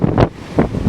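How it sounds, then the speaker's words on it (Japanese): Rough sea surf breaks at Itajiki coast in Yonabaru, Okinawa, during typhoon No. 6, with heavy wind buffeting the microphone in loud, surging rushes and no speech. "波が荒れてますよ"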